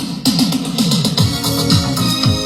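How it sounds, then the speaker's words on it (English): A song played backwards, loud reversed music with swelling tones and pulsing notes that seem to rise in rather than fade out, with no speaking voice. "I reversed the audio and you won't believe how it sounds now."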